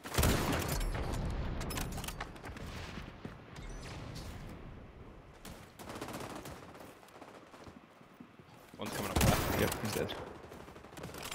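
Gunfire from a sniper video game: dense, continuous bursts of shots with loud cracks, a louder cluster near the end, mixed with game sounds and occasional voices.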